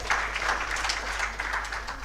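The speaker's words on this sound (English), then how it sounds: "Let's clap for Gloria once again." Audience applause at a national social protection dialogue event, a dense patter of many hands clapping steadily for about two seconds, moderately loud and close, with no break.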